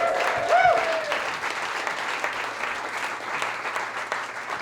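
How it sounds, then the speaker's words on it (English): Sustained applause from a comedy club audience after a comedian's set, steady clapping throughout with a host's voice briefly heard over it. "keep those applause going for Greg Cherry."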